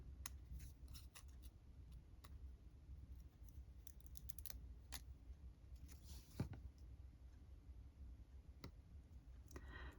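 Scissors cutting out a paper label for junk journal embellishments, a series of quiet close snips and small crisp clicks scattered irregularly over a faint room hush, with no talking.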